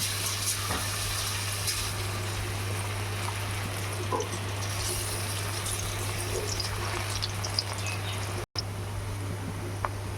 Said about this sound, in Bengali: এবার আমি এটা তেলের মধ্যে দিয়ে দেবো।